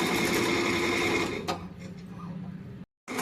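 A computer embroidery machine stitches continuously at a steady, rapid mechanical whir, loud and close, easing slightly midway before cutting off abruptly near the end.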